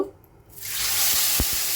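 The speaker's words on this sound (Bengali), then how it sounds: "তেলের মধ্যে আমি কালো জিরে ফোড়ন দিয়ে দিয়েছি" Sudden loud sizzle as nigella seeds hit hot oil, a bright steady crackling hiss that continues after a brief quiet start.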